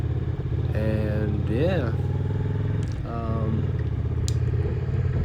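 A roughly 20-year-old motorcycle engine drones steadily while cruising around a marina, a close, continuous low rumble heard under someone talking.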